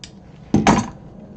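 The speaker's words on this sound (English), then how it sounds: "I'm just going to do some little snips in there, just little 1/8 of an inch snips to help it a little bit" Scissors make two quick small snips into handbag material, short sharp cuts close by in an otherwise quiet room.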